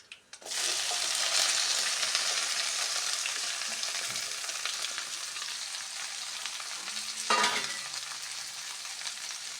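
Okra hits hot oil seasoned with turmeric in a pan and sizzles loudly and steadily, with a brief scrape of stirring midway and the frying continuing strongly, no voices.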